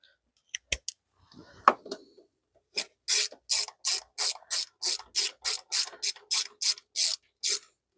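A hand ratchet tightening two screws on a 1996 Ford F150 fuel injector pigtail: a few scattered clicks and handling sounds, then a rhythmic run of about fifteen sharp, close ratcheting strokes.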